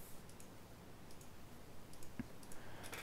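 Computer mouse clicks at a desk during a SimAirport session, a few faint, sharp clicks spread across a quiet background.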